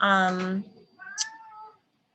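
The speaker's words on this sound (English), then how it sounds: "sorry if you can hear my cat meowing" A house cat meows twice indoors, a short tonal call followed by a longer rising-and-falling meow, close and clear, with no talk over it.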